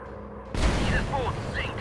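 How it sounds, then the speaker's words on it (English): Bombs dropped from a WWI German warplane in a video game, heard as a sudden loud boom with a long rumbling roar and crackle that follows, over a steady engine drone. "I'm gonna use the outside as a bit of a way to tell where I'm dropping these bombs"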